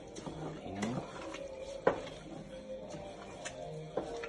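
Ghanaian jollof rice being stirred in a pot gives soft scraping and a few sharp clinks of a spoon against the pot, faint and intermittent over quiet kitchen background.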